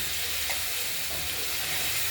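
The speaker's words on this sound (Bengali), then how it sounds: "আলু কটা ভাজা হয়ে যাওয়ার পরে আমরা দিয়ে দিলাম টমেটোগুলো একটু এর মধ্যে ভাজা ভাজা করে" Tomatoes fry with already-fried potatoes in a pan for a rohu fish and potato curry, giving a steady, close, even sizzle with no talking.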